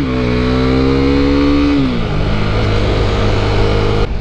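A Husqvarna Vitpilen 401 motorcycle engine on a test ride, loud and close, holding a steady drone, then the pitch drops as the revs fall before it settles into a rough, lower idle-like rumble.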